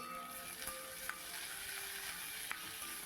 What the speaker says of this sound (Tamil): இப்போ காய்கறிங்க கேரட் பீன்ஸு எடுத்திருக்கேன் அதுவும் போட்டு கொஞ்சம் நல்லா வதக்கி விடலாங்க